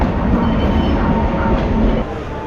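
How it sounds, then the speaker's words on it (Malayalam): The Netravati Express, running from Lokmanya Tilak Terminus to Thiruvananthapuram, pulls away from a platform in Goa. Its loud, steady, close rumble of wheels and carriages fills the whole stretch and eases slightly near the end. "ട്രെയിൻ"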